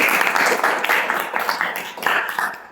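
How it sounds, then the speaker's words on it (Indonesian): An audience applauds steadily at a youth student-council talk show, a dense wash of many hands clapping at once, loud and sustained throughout with no voices standing out. "Tepuk tangan."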